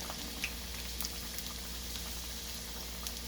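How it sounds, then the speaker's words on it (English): Potatoes fry in oil with a steady, bubbling crackle that stays moderately loud and continuous throughout, with tiny pops scattered across it and no voices. "nicely fry it in oil till it becomes golden brown"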